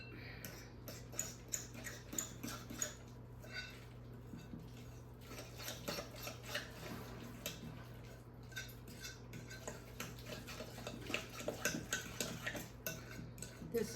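Ingredients for an apple cranberry cobbler being stirred together in a mixing bowl, with repeated light clinks and scrapes of a utensil against the bowl, steady and close, over a low constant hum.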